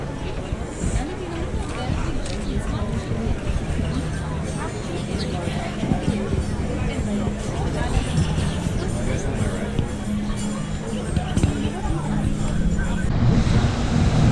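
Ocean surf washing steadily along the Hula Grill oceanfront on Maui, a broad continuous wash mixed with wind, with a babble of diners and voices talking throughout.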